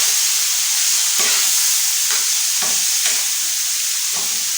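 Minced keema hisses and sizzles steadily on a hot tawa while a spatula scrapes through it in several distinct strokes, loud and close with no talking.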